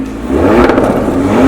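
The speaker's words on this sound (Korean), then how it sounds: "그리고 이거 포르쉐 스포츠 테일파이프 배기 옵션" A 2022 Porsche Cayenne Coupe with the sport tailpipe quad exhaust gives a short, loud rev that swells quickly and holds a deep, throaty tone for about a second.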